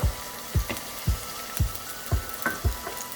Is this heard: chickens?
no